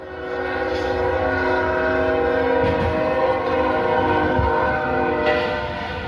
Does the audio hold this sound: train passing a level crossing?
yes